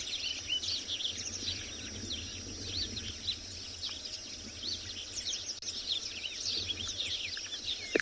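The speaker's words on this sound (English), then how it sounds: "It just sounds like a whole bunch of notes from various birds just jumbled all together" Many birds call together at sunset on a safari, producing a dense, continuous jumble of high chirps and notes over a quiet, steady background with no talk.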